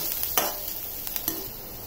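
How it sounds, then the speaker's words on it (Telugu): Curry leaves spluttering in hot oil, a faint close sizzle with a few quick crackles and a utensil scrape over a short moment. "కరివేపాకు వేసి బాగా ఫ్రై చేయాలి."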